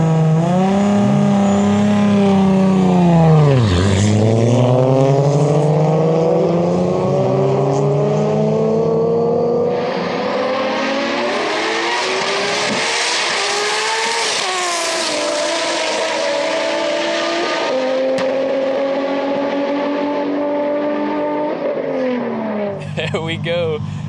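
A 2JZ-swapped BMW and an R32 Skyline drag racing, engines revving hard with rising and falling gear-change sweeps, loud and close, then a sustained high-rpm roar as the cars pull away, with faint voices underneath.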